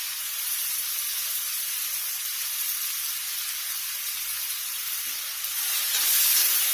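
Cumin and chopped onion sizzle in a hot pan with a dense, constant hiss up close that swells slightly louder near the end.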